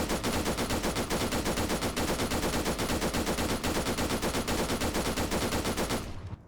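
Sustained machine gun fire in Arma 3, a rapid unbroken stream of loud shots for about six seconds before stopping abruptly.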